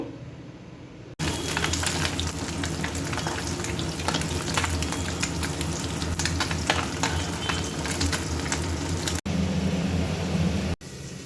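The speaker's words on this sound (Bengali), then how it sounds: "পুঁটি মাছে নুন হলুদ মাখানো হয়ে গেছে এবারে ভেজে নেব" Puti fish rubbed with salt and turmeric frying in hot oil, a loud steady sizzle and crackle close up that runs almost unbroken, with brief cuts between shots.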